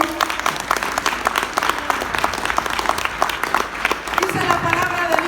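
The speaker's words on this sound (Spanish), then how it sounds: "Démosle un fuerte aplauso al Señor." Congregation in a church bursts into sustained, dense applause, many hands clapping together at close range, with a few voices rising near the end.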